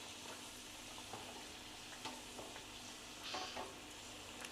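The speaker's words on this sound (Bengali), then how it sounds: "সেই তো বন্ধুরা উল্টে পাল্টে সিঙ্গারাগুলোকে ফ্রাই করে নিয়েছি" Samosas deep-fry in oil over medium flame, a faint steady sizzle with light bubbling crackles and occasional soft stirring, no voices.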